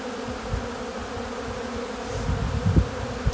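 Honey bees buzz in a continuous, close drone around hive frames during early fall beekeeping, with soft thumps and movement growing louder in the last second or so.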